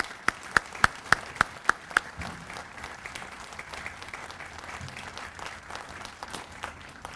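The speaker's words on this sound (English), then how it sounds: "So let's all give them a round of applause for what they do for us every day and thank them." A crowd at an outdoor Memorial Day ceremony applauds firemen, opening with several sharp, close, evenly spaced claps before settling into softer scattered clapping across the gathering.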